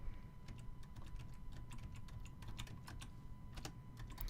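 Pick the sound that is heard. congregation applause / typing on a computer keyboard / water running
typing on a computer keyboard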